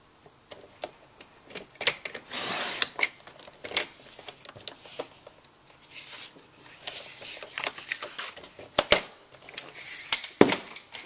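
A paper trimmer slices through cardstock at a craft table, giving a few crisp, close sliding cuts and sharp clicks at irregular moments, with no speech.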